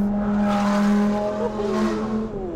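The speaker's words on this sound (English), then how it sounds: "you have all of the drama, the noise of the old cars" 2013 Lamborghini Performante engine roaring loudly and steadily up close, its pitch climbing and easing slightly as it revs, with no talking over it.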